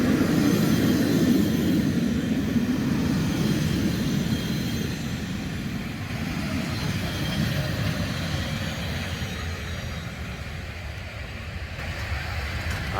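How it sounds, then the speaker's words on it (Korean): A rack railway train in the Swiss Alps creeps slowly past at the start of its cog section, giving a steady, heavy low rumble with a droning mechanical hum that stays close and fairly loud throughout, with no voices. "여기서 기차가 왜 천천히 가나 했더니 아까 여기서 톱니가 시작되잖아"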